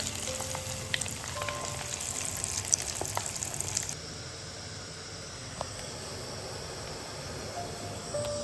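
Chicken leg pieces frying in a clay pan give a steady, close crackling sizzle with scattered pops, busier in the first half and then settling into a softer, even hiss.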